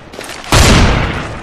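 A decoy grenade in Counter-Strike: Global Offensive imitating gunfire: after a soft lead-in, a loud sustained burst of rapid fake shots starts abruptly and carries on, close and strong.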